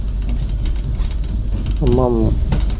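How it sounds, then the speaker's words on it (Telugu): Train 22647 stands at Khammam station: a low rumble under irregular mechanical clanks and ratcheting knocks, with a short tonal call rising briefly near the end over the background. "ఖమ్మంలో మన ట్రైన్ వచ్చేసి 1 మినిట్ స్టాప్."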